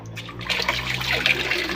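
Running water fills a clogged kitchen sink, a steady broad rushing and splashing with no talk over it.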